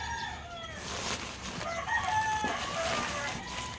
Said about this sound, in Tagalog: Marami kasing manok dito sa paligid namin.